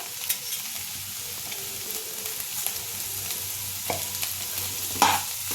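Potato bhaji mixed with a spoonful of sugar is stirred in a pan for vada pav. A soft continuous sizzle runs underneath, with occasional scrapes and light taps of the spoon close by.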